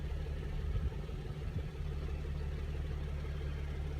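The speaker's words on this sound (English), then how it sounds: "it's going over the interference of the car engine" A car engine hums steadily in a continuous low drone from inside the vehicle, with a slightly rougher patch early on, then settling into an even, unbroken rumble.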